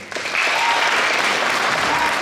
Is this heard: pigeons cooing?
no